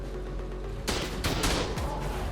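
Automated turrets open fire in the video game Ark during a PvP raid, a sudden burst of loud, rapid gunfire after a quieter stretch, continuing for over a second.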